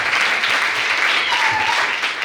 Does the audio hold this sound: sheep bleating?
no